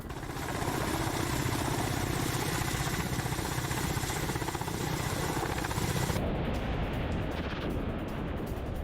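A Mi-8 helicopter in flight over the Kursk combat zone gives a loud, continuous rotor and turbine roar with dense rapid blade chop, steady throughout and shifting in tone near the end.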